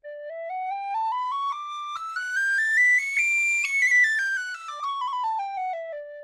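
A Sondery basic penny whistle (tin whistle) plays a bright, clear run of notes climbing steadily up the scale and then stepping back down, close and fairly loud with no talking.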